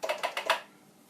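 Four quick, crisp keystrokes clack on a Commodore PET computer keyboard in an even rhythm, close up, followed by quiet.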